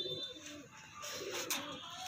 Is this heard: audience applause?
no